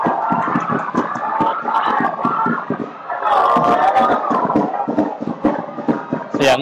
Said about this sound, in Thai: เสียงเชียร์นี่คือเป็นแข่งอีกสนามนึงนะฮะเป็นฟุตบอล U15 ครับระหว่าง BG พบกับชลบุรีฮะซึ่งแข่งทางด้านหลังเขาเนี่ยฮะ